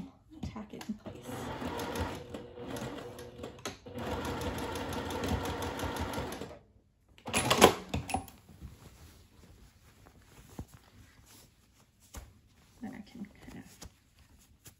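A sewing machine tacks a fabric edge in two close, steady whirring runs, followed by a sharp clunk and then scattered quieter handling noises and soft talk.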